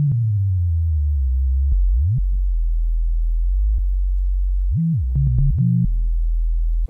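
A sustained synthesized sine-like tone built in FL Studio and shifted down an octave, sitting low and steady with gliding pitch bends and a few short chirped blips near the end, with no talking.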